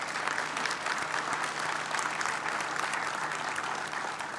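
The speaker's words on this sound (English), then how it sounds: "So can you give yourselves a round of applause?" Sustained applause from a luncheon audience, a dense, even wash of many hands clapping that fills the room without a break.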